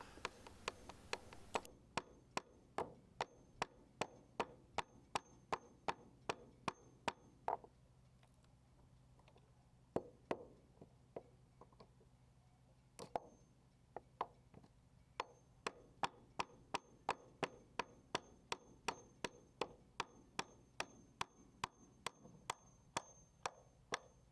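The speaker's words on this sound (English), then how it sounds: "I'll whack it with a hammer until it comes out" A hammer knocks out a boat's toe rail, striking again and again in a steady, fast run of sharp, close metallic blows, with brief pauses partway through and no talking.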